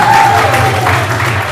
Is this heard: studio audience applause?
yes